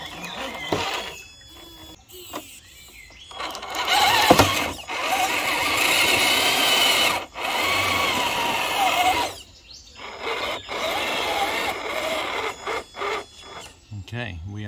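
Traxxas Pro Scale winch motor whirring as it drags an RC truck up an incline, a steady mechanical grind in long runs broken by short pauses, with scraping and rubbing noises and some talk over it.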